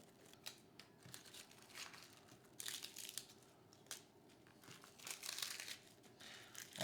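Fresh leaves ripped apart by hand into bite-sized pieces, a series of soft, close crinkling tears in short bursts with no talking.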